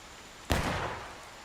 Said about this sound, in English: We see some gunshots